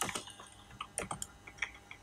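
Typing on a computer keyboard while entering Urdu text in InPage software: an irregular run of close, crisp key taps with brief pauses and no voices.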